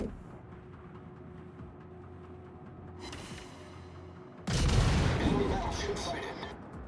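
Naval guns fire in World of Warships, a sudden loud broadside boom near the middle, then a sustained rumbling roar trailing off, with a quieter bed of game ambience before it.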